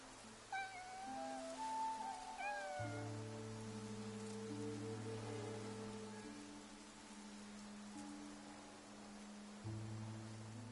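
A cat meows a few times near the start in the video game Infinity Nikki, its calls set against steady rain falling on surfaces and sustained game music that carries on after the meows stop.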